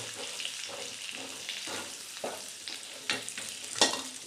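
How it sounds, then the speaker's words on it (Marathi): Dry spices frying in oil with drumstick pods in a pan, a soft sizzle broken by a few stirring scrapes and clicks, quiet and close with no talk. "आता हे सुखे मसाले आपण शेंगात घालूया आणि तेही तेलावर मस्त फ्राय करून घेऊया"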